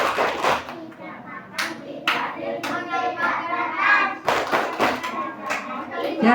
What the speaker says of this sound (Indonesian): Anak-anak bisa tepuk puasa? Coba tepuk puasa.